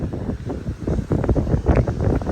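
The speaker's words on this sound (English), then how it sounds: "the wind is strong." Strong wind buffeting a microphone on the shore during striper fishing, loud gusty rumbling and whooshing that swells and surges throughout.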